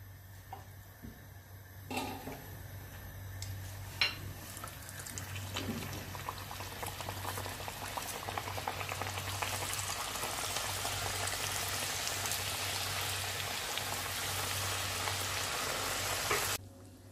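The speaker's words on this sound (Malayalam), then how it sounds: "എണ്ണ ചൂടാവുമ്പോൾ നമുക്കിത് ഇട്ട് കൊടുക്കാം." Kuzhalappam fries in hot oil in a non-stick pan, giving a dense, steady sizzle that builds and grows louder over time, with a few clinks from handling early on.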